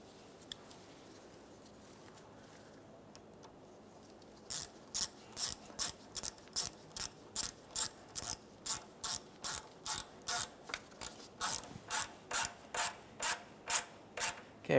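A ratchet clicks in a rapid, even series of sharp metallic ticks while a power steering hose clamp is tightened on a 2004-2008 Ford F-150, after a few quiet seconds.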